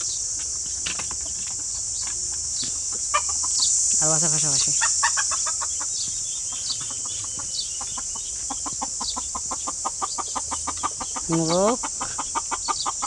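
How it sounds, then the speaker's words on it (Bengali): A rooster crows twice among clucking hens kept for eggs on a hot-day poultry farm in an Arab country, with insects buzzing steadily in the background and someone talking intermittently nearby. "এটা হচ্ছে মোরগ ওই সবগুলো মুরগি ডিম দেওয়ার জন্য এখানে রাখছে ওরা"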